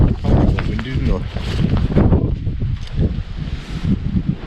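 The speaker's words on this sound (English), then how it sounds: "I got wind, didn't I?" Wind gusts buffet the microphone at a garden campsite during an Easter camp-out, rumbling in uneven low bursts, with voices talking partly over it.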